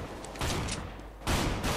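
Gunfire in Counter-Strike: Global Offensive, a couple of loud, sharp bursts of in-game weapon fire with a short gap between them, heard alone without talk.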